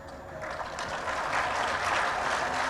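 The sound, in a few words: audience applause at a pharma conference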